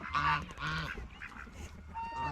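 Geese on a chicken farm honk loudly and repeatedly near an empty feeder, several overlapping calls in quick bursts with no talk.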